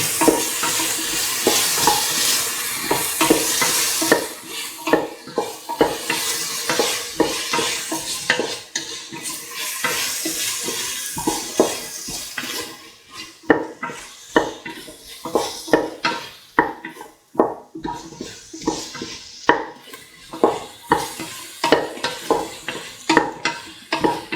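A spoon works carrot, tomato and coconut milk rice around a hot pan, with repeated scraping and knocking against the metal over a soft frying sizzle. The stirring grows choppier and more broken toward the end, with no voices.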